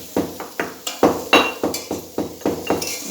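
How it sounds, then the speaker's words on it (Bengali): Black peppercorns being crushed by hand for children's tiffin: about nine sharp, close knocks in a steady beat, roughly three a second, with no talking. "এই যে আমি গোলমরিচটা গুঁড়িয়ে নিচ্ছি এখানে"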